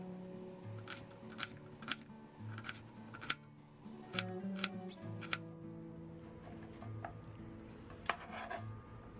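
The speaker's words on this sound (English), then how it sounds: "You want to cut thin slices like this." A knife cuts thin slices of onion on a cutting board, producing soft, quiet taps that repeat at an irregular pace, with a faint steady hum in the background and no speech.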